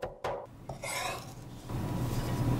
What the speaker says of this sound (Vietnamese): Tỏi mình dùng khoảng 4 tép nhỏ, đập dập và băm nhuyễn ra.